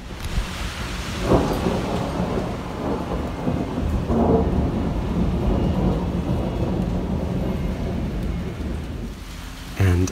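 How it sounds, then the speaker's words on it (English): Thunder cracks and rolls over steady rain on surfaces, with two heavy claps early on amid a constant dense rain hiss and a sharp sound at the very end. "A clap of thunder."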